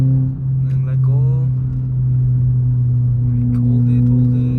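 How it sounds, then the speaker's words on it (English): A car on an uphill touge run holds a steady, loud low engine drone under throttle, close from inside the cabin, while a voice talks over it. "Just keep your foot on the throttle, go, and it opens up."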